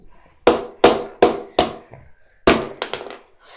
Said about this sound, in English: I guess this is my hammer.